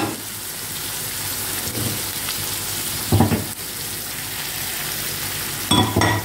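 Onions cook in a pot over low heat on top of large tomato pieces, a soft, steady sizzle with a few louder bursts of spoon scraping, close and without talk.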